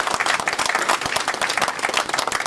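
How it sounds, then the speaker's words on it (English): Applause from the audience at a high school football signing day, a dense, steady wash of many hands clapping at close range for a couple of seconds. "So give these guys a round of applause."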